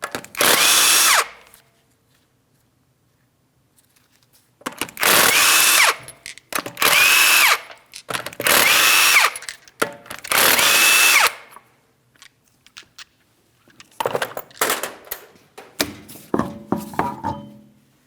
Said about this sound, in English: you're going to remove all 5 of your 19mm lug nuts and then the wheel